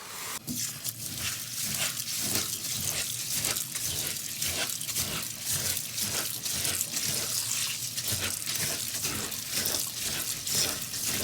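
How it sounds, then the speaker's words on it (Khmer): Steady running water splashing and swishing in a container, with rhythmic sloshing as grains are rinsed by hand, close and continuous. "ឥឡូវនេះខ្ញុំចាប់ផ្ដើមមកលាងអង្ករតណៅរបស់ខ្ញុំ"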